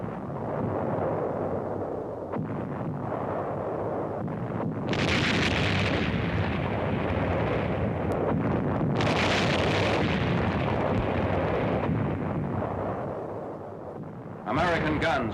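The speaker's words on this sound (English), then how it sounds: "American guns massed in the university yard fire against enemy artillery positions." Archival war footage of American artillery guns massed in a university yard, firing on enemy artillery positions. Heavy booms and blasts burst out at intervals over a continuous rumble, with a narrator's voice talking throughout.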